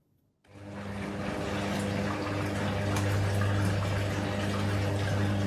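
Washing machine at a laundromat filling with water in a video game, a steady rushing hiss and low hum that starts abruptly after a brief silence and continues evenly.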